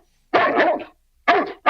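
Close, loud dog barks come in three quick bursts separated by brief silences, with a slightly whiny, yipping edge and no voices.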